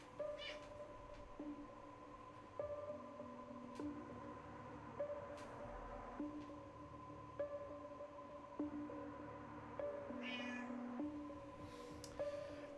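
A cat in the video game Prey meows repeatedly at steady intervals, each cry short and clear over a soft droning game ambience, with occasional faint clicks between.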